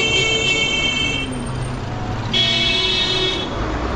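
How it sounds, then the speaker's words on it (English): Busy city traffic in La Paz, Bolivia, with steady engine rumble and repeated car horns honking, one long blare early and another a couple of seconds later, loud and close. "this is a crazy traffic I was talking about"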